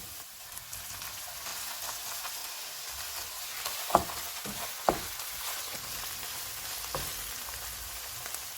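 Onion masala frying in a pan with green chillies for an egg curry: a continuous, even sizzle and crackle held for several seconds, with a few sharp taps of a spatula against the pan.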